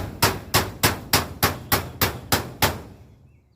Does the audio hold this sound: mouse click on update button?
no